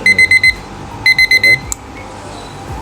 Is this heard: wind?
no